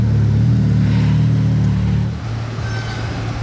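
Deep V8 engine note from a Ferrari 458 Speciale in Monaco streets, a loud close rumble holding steady then dropping slightly in level partway through, no talk over it.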